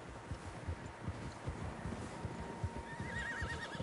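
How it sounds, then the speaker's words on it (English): Horses whinny over a rumble of hooves and rustling in the video game Red Dead Redemption II, with a long high neigh rising near the end. "Horses, quite a few of them."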